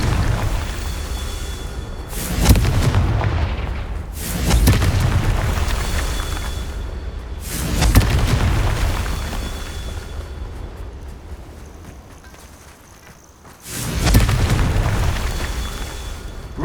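Confringo explosion spells in Hogwarts Legacy, several loud booming blasts spaced a few seconds apart with rumbling tails, each fading before the next.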